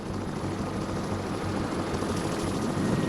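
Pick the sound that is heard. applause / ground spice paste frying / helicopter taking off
helicopter taking off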